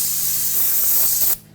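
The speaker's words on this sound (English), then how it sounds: "Now spray this down with some brake parts cleaner." A strong aerosol spray of brake parts cleaner on a BMW X5's rear brakes hisses loudly and steadily for over a second, then cuts off abruptly into near silence.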